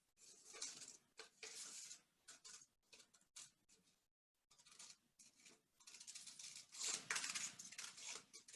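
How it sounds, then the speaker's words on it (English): Scissors snip out paper shapes in a steady run of crisp cuts, with a brief pause midway before the cutting resumes louder and faster, close up and with no talking. "I'm going to cut out my autumn real quick"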